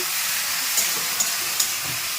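Shrimp frying in a pan of hot oil, a steady broadband sizzle with a few brief sharper pops, no talking.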